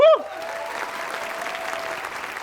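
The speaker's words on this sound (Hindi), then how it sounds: "बट ब्रजेश सर के लिए तालियां थोड़ी।" A studio audience at a Bollywood comedy roast talk show bursts into steady applause that fills the room for a couple of seconds after a short tone, with no talking over it.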